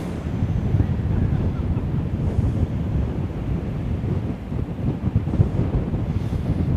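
Strong wind buffets the microphone at a coastal RAF Lancaster bomber crash memorial, a continuous loud low roar with gusts and a faint wash of surf beneath, and no voices.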